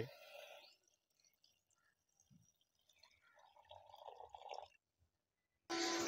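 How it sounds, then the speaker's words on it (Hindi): About half a litre of water is poured into a pressure cooker of black chickpeas, a faint, gurgling, dripping flow with quiet gaps, followed by a sudden louder noise at the end. "अब इसमें आधा लीटर के करीब पानी ऐड करेंगे"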